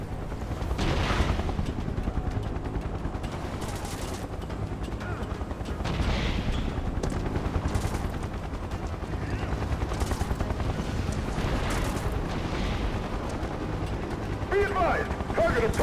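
Repeated bursts of gunfire in Final Fantasy VII Remake, rattling over a steady helicopter-like drone through a dense battle mix, with voices talking.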